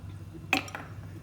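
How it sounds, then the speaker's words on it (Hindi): Ice cubes drop into a glass of tamarind, plum and raw mango sharbat syrup, giving one close, bright clink with a short glassy ring and a softer knock just after it, set against a quiet room. "आइस क्यूब्स ऐड करेंगे हम"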